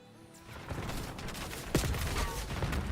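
Video game combat: a thrown frag grenade and gunfire, with dense overlapping bursts of shots and a sharper blast-like crack partway through, filling the whole stretch loudly.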